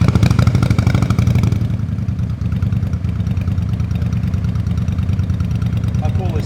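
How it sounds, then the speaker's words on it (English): A 2011 Honda VT750C cruiser motorcycle engine starting up and settling into a steady, loud, close rumbling idle, with a person talking over it at first. "I think the bike has to be running, so let me fire it up."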